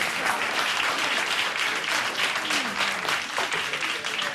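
Loud, sustained audience applause at a speech event, a dense continuous roar of many hands clapping with faint crowd noise beneath, steady from start to finish.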